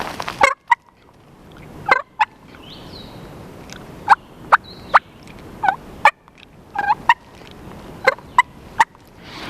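A hunter's call imitates a wild turkey's clucks and purrs, sharp repeated clucks mixed with short rolling purrs, close and clear with no talking.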